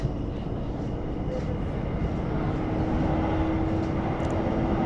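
A Thameslink train runs along National Rail tracks with a steady, loud rumble that holds for the whole stretch, heard from close by with a faint voice underneath.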